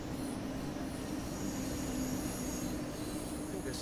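A train rolling along the tracks in the Train Sim World 6 simulator, a continuous loud rumble with squealing wheels and a steady tonal whine, heard at close range with no voices.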